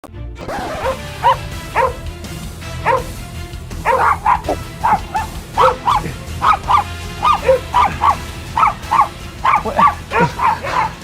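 Several dogs bark and yip in short repeated bursts, close and fairly loud, with uneven rhythm throughout and no talking over them.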